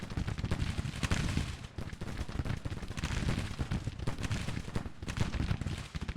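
Civil War artillery and musket fire in the game Grand Tactician: The Civil War, heard as a continuous distant crackle of many overlapping shots and dull booms, fairly quiet and unbroken throughout, with no talking.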